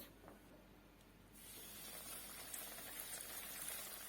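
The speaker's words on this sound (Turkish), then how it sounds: "ciğerlerimizi sıcak yağımızın içerisine ekliyoruz ve kızartmaya başlıyoruz" A steady sizzling hiss of flour-coated chicken livers frying in hot oil in a pan, soft and continuous, growing a little busier partway through.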